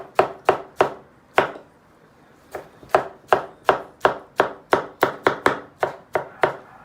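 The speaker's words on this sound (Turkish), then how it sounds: "Domatesleri çok ince doğrayacağız." A knife finely chops tomatoes quickly on a board in sharp, evenly spaced strikes, with a brief pause before the steady chopping resumes. The sound is close and there is no talking.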